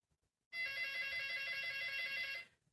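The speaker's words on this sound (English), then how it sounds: "oh, the phone's ringing." A house phone rings at night, a bright electronic ring sustained for roughly two seconds and then cut off, heard clearly on its own without speech.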